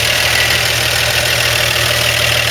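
A 1955 Chevy 3100 truck's 235 six-cylinder engine idles quietly and steadily up close, a smooth even hum with no talk.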